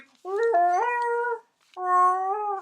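A pet's howl played back from a recording, two drawn-out tonal wails with a rising, wavering pitch, the first longer and bending upward midway, separated by a short silence.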